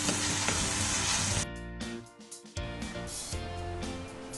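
Two dried red chillies dropped into hot oil for shredded chicken: loud close sizzle that dips briefly partway through then resumes, with a faint clink, no voices.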